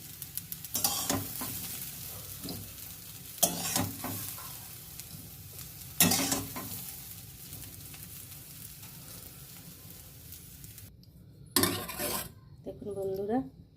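Fried potato and bitter gourd being lifted out of a frying pan: several sharp metallic scrapes and clatters of a utensil against the pan, set over a low, steady sizzle, with a brief ringing clink near the end.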